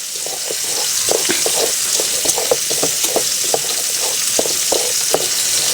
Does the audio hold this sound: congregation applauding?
no